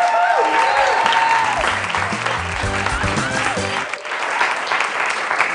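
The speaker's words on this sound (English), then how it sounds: "please give it a round of applause for your new cast of Studio A" Loud studio audience applause and cheering on a TV comedy show set in Studio A, dense and sustained over a short musical sting that rises and fades midway.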